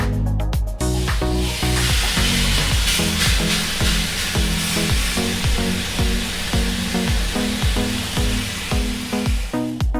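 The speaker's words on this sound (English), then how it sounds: "But wait for the sizzle!" A swordfish steak with Cajun rub sizzles in a screaming hot cast iron pan over high heat, a loud, continuous hiss that runs the whole length after a brief clatter as the fish goes in, with no talking.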